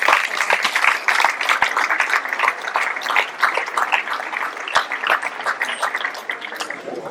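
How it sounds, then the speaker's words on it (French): Audience applause at a sports awards ceremony in Ploërmel honouring athletes and volunteers, a steady dense clatter of many hands that holds throughout and eases slightly toward the end. "on va l'applaudir très fort"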